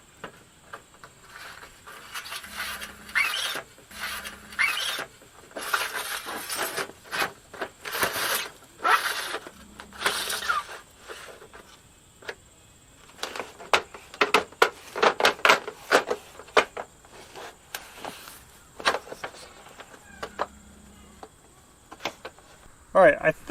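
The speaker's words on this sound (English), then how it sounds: "Okay, I gotta slide this trim on the end." Metal trim sliding onto the end of a mobile home entry awning: a series of short scraping, rattling bursts, close and fairly loud, with a steady background hum and occasional talk.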